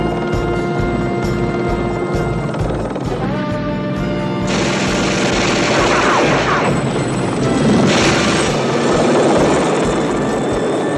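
Rapid 20mm cannon fire from a Bearcat airplane, a loud burst of bangs over the steady drone of aircraft engines that sweep closer and surge in strength, with no one speaking.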